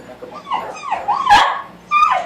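A vicious dog barks and yips in short, loud bursts at close range, with whimpering tones between barks and people talking tensely around it.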